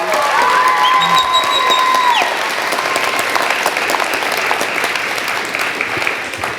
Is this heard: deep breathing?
no